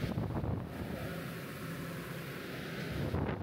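Wind blows steadily and hard across the microphone, a continuous loud rushing roar near the water on a trip to the Statue of Liberty in New York, with no voices.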